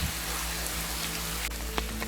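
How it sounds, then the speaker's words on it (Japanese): Water pours down beside a shrine at a Nagasaki hot spring area in heavy rain, a constant rushing wash with a few sharper drips and splashes on top. "この横にはこんな感じで滝が流れてます。"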